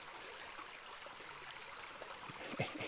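A stream of cool fresh water runs just outside a country pub at Corscombe, Dorset, as a faint, steady trickle with soft splashes and a few light knocks near the end.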